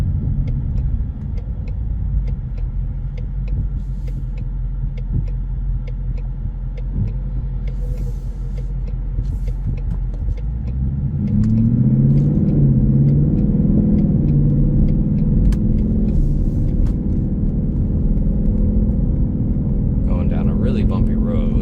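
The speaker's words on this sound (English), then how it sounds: "Using the paddle shifters right now to do the downshifting" A 2023 Ford Mustang GT Premium with Roush track pack rumbles from inside the cabin as paddle-shifted downshifts raise the engine note around midway, a deep steady drone with a brief rising growl.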